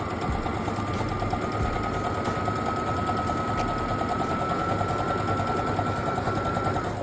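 A sewing machine stitches in a steady, fast mechanical rhythm, its motor whirring loudly and continuously throughout with an even chatter of the needle.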